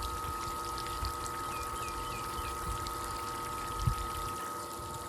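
Return water from a Game SandPro 75D pool sand filter sprays up like a sprinkler, a steady close hiss over a constant pump hum, with faint bird chirps in the background.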